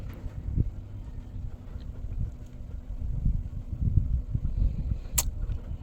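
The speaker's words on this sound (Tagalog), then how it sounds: "Grabe kaayo ang hangin guys, kakusgan." Steady low roaring gusts buffet the microphone throughout, rising and falling, with a brief sharp click near the end.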